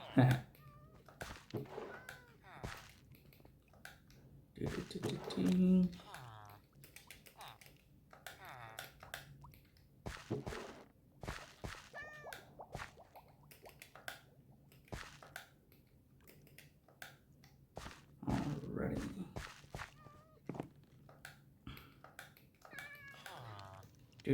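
Cats meow several times, close and fairly loud, mixed among keyboard typing clicks and a person talking throughout.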